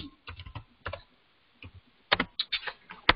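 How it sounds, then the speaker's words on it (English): Bursts of quick clicking keystrokes on a computer keyboard, close and crisp, broken by short pauses between runs of typing, with no talking. "I can respond by typing it right here"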